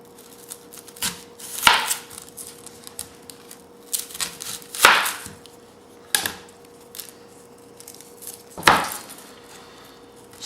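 A knife chops onions on a cutting board for meatloaf, landing four sharp, loud strikes at uneven intervals with quieter scraping and handling noises between them.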